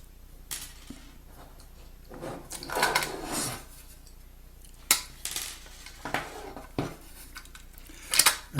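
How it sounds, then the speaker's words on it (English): Small metal washers being removed from a large-case Big Muff Pi guitar pedal, giving faint, scattered metallic clinks and light scraping taps at close range, irregularly spaced over a quiet background. "Just take these washers off before they get lost."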